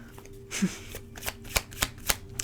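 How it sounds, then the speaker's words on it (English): Tarot cards being shuffled by hand, a run of crisp riffling snaps and flutters in a fairly regular rhythm, close and clear with no talking. "right when I looked down to start shuffling"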